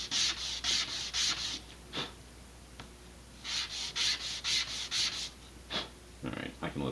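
Rhythmic rubbing strokes of sandpaper on a laser-cut model rocket part with laser-burned edges: a close run of steady back-and-forth rasps with brief pauses in between, and no talking.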